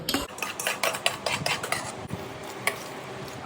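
A metal spoon clinks and scrapes rhythmically against a bowl or pan, stirring tempered spices and lemon juice quickly in repeated close strokes.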